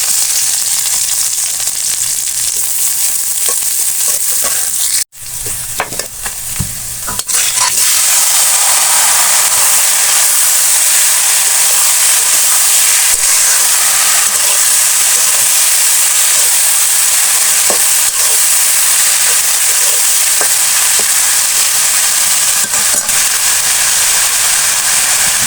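Greens frying in a pan with chopped garlic, raw onion and dried chillies, a loud steady sizzle that runs almost the whole time, broken by a brief sudden dip and a few seconds of softer crackle before it surges back.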